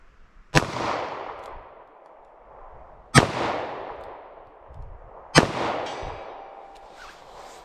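A .32 H&R Magnum or .38 Special revolver loaded with Hornady Critical Defense ammunition fires three loud, sharp shots about two and a half seconds apart, each followed by a ringing echo that fades.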